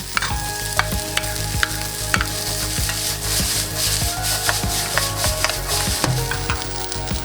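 Rice stir-fried in a pan for chicken fried rice, a loud continuous sizzle with frequent quick metallic spatula clanks and scrapes in an irregular rhythm, no talking.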